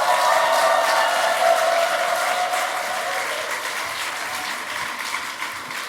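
Warm applause from a church congregation at a Friday worship gathering, welcoming a guest pastor to the stage: a full, steady clapping that holds for several seconds and then eases off slightly, with no speech over it.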